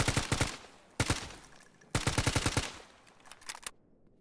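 Rapid rifle gunfire from the video game S.T.A.L.K.E.R. GAMMA, loaded with FMJ rounds: three close, loud bursts of automatic shots, each a quick rattling string followed by a brief decaying tail and short pauses between.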